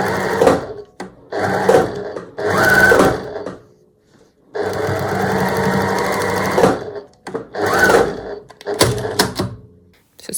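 Sewing machine stitching quilt binding with black thread, running in several loud close bursts of rapid stitching separated by short pauses, with one longer continuous run in the middle; no talking.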